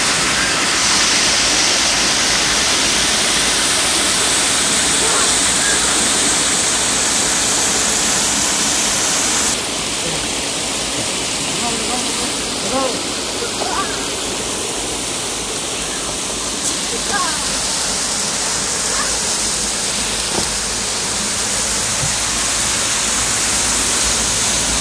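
Steady rushing water pours through a traditional water-powered flour mill at Khanpur Dam in Pakistan, a loud continuous broadband roar with faint talk underneath throughout.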